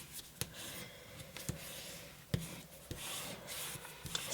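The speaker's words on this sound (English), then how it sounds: "I do take my bone folder and score it" A bone folder scores a folded paper petal for a paper amaryllis, producing quiet, close rubbing strokes with a few light taps against the table.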